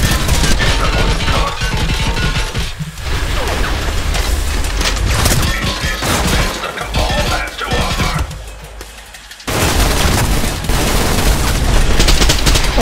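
Enemy gunfire in the video game Trepang2: loud, dense bursts of automatic shots and booms fill the whole stretch, with a brief lull before the firing surges back.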